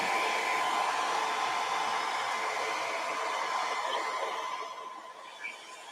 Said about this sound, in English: And let's try the heat gun.